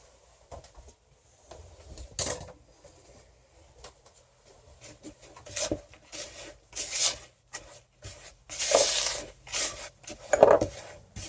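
Powder for homemade color bombs is stirred in a container, making intermittent scraping and rubbing strokes with a few light clinks. The sounds come in irregular bursts that grow louder toward the end.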